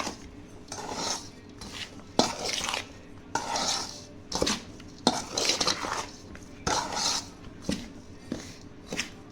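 Spoon stirring turmeric into a mango pickle mixture with ginger-garlic in a pot, giving repeated scraping and clinking strokes against the container at a steady, uneven rhythm, close and fairly loud.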